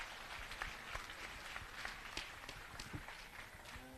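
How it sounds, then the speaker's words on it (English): Crowd applause at a junior fair steer show in a barn, a steady, fairly faint wash of clapping with scattered sharper claps and some shuffling, with no voices over it. "give all these kids that are in here, as well as the barn, a great round of applause."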